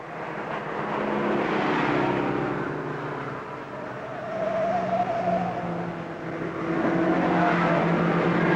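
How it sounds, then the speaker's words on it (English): A 1963 Studebaker Lark racing at the Armstrong 500 touring-car race, its engine roaring steadily at close range over about nine seconds, rising and falling as it accelerates, with other race cars sounding in the background. "That's the 7D, that's Jim Wright's Studebaker Lark"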